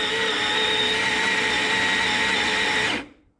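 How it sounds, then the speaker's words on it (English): Baratza Sette 270 coffee grinder grinding a dose of coffee beans for a flat white, a steady loud whirring burr grind running about three seconds before cutting off. "Really like this grinder, nice fluffy grinds there."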